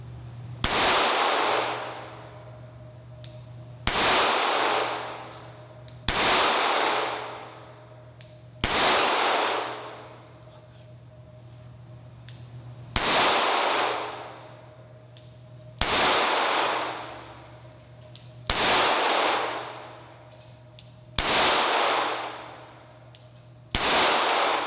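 Nine sharp 9mm handgun shots from a Smith & Wesson Shield M2.0 with a red dot ring out one by one against a steel target, each loud crack followed by a decaying metallic clang, spaced a few seconds apart.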